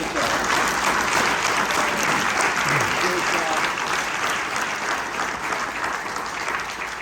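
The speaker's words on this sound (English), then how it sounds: "Let's give Jeff a round of applause for once" A crowd gives Jeff a round of applause at an evening business gathering, loud, dense clapping that holds steady for seven seconds and tapers only a little toward the close.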